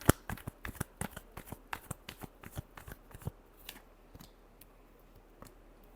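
Tarot cards are shuffled in a rapid series of crisp, close riffling snaps that slow and thin out toward the end, with no voices.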